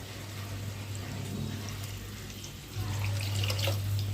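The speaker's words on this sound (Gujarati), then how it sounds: "હવે આપણે તેમાં પાણી એડ કરી દઈશું" Water streams from a vessel into a cooking pot of sama-moraiya khichdi made with potatoes, a soft running pour that swells louder partway through, with no talk.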